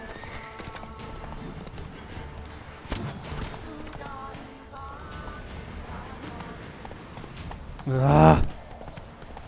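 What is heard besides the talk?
horse Roach's hooves galloping in the video game The Witcher 3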